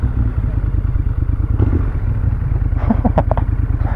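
A Moto Guzzi 1200 Griso SE motorcycle engine idles while being parked, a loud, close, rhythmic low thump that stays steady, with a few clattering mechanical knocks near the end.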